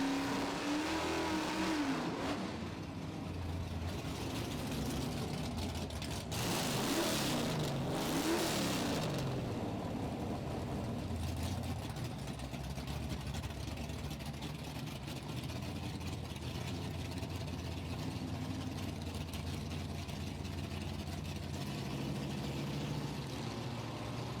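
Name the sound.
1966 Pontiac muscle car racing at drag strip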